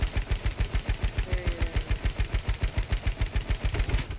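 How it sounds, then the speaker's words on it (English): Warning shots from a video game gun fire as rapid automatic bursts, an even, fast, punchy rhythm of close, loud shots running the whole time without pause. "let me give out warning shots"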